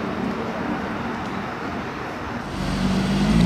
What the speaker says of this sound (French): La SF arrive en mode électrique.